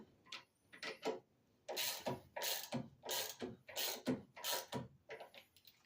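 Close, quiet ratchet clicking in quick repeated strokes while bolts are tightened on a lowrider hydraulic gear mounted to a block, rhythmic bursts with brief pauses and no voices.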